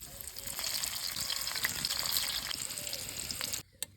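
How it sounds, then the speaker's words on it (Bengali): Stuffed bitter gourds (uchhe) fry in oil in a pan, giving a steady, close hiss and crackle that holds evenly for several seconds before cutting off abruptly near the end. "এবারে উচ্ছেগুলো সব ভেজে নেব।"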